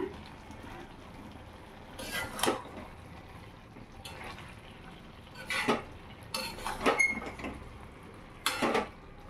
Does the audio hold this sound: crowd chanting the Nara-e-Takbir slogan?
no